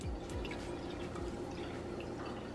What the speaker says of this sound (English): add 7 fluid ounces of water. So let me go ahead and measure that out here.